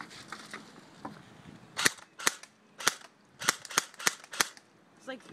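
A Crosman R-76 airsoft gun firing semi-automatic, about eight sharp, loud cracks at uneven spacing over a faint background rustle.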